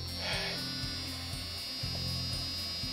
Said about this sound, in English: yep, pump's running, you hear that?